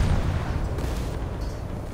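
A ship's gun fires in a naval battle video game, giving a deep rumbling boom that spreads into a sustained low roar and lingers at steady loudness for about two seconds, with no talking.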